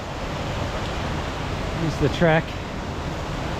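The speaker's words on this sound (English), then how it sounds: "right next to this raging river" A raging river rushes beside the Dusky hiking track, making a loud, steady broadband roar throughout. A voice speaks briefly over it.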